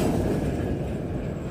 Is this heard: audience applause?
no